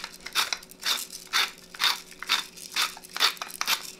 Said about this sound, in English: Then I like to put a little salt and pepper on top of that